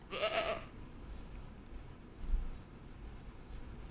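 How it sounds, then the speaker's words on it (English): A baby goat bleats in the Ranch Simulator video game, one short nasal cry at the start, then low rumbling ambience and faint ticks with no talking. "I'm so proud that you gave me a baby goat."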